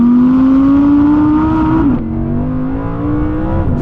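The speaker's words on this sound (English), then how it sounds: "here's a quick montage of some Audi R8 V10 rear-wheel drive noises" An Audi R8 V10 rear-wheel drive engine revs hard, its loud, tonal howl climbing steadily, dipping briefly and climbing again, close and dominant with no talking.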